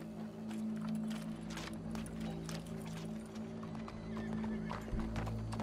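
Horse hooves clip-clopping in Red Dead Redemption 2, steady repeated hoof strikes with an occasional whinny over a low ambient rumble, fairly close and continuous.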